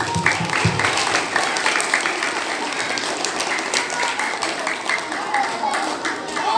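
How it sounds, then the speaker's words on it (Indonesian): Audience applause at a school orientation event (MPLS) following a teacher's presentation: steady, dense clapping from a crowd throughout, with some voices mixed in. "Tepuk tangan semuanya."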